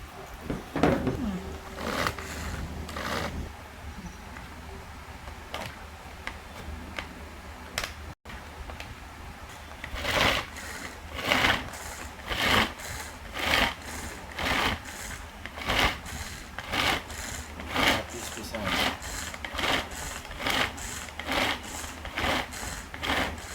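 A Pigeon manual pull-cord kitchen chopper chops food, giving a long run of sharp, regular rattling clacks, close and fairly loud, with a brief gap before the strokes resume faster and steadier.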